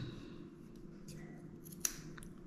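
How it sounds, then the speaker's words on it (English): Scissors snip around the edges of a dog's coat during grooming, a faint, sparse clipping with one sharper snip standing out against steady low background hum. "I'm using the scissors to cut around the edges"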